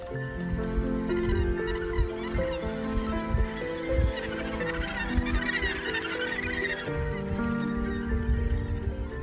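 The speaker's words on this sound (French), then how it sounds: "Je vous emmène là où une colonie de fous de bassin s'est installée en 1992." A large colony of northern gannets at Farewell Spit, New Zealand, keeps up a dense, continuous chorus of harsh, overlapping calls, loud and close, with no talking.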